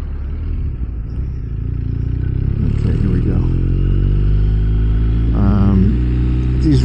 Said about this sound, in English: this has auto blipper, so you don't need to blip the throttle or anything like that. So when you downshift